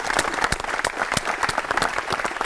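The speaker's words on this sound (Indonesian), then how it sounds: "kita beri tepuk tangan untuk Pak Lino" An audience applauds for Pak Lino at a televised talk event, a dense, loud burst of clapping from a crowd that runs steadily throughout with no talk over it.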